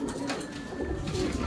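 Racing pigeons coo steadily inside a loft in Bandung, their low throaty calls overlapping in a continuous, fairly close murmur with faint room noise behind.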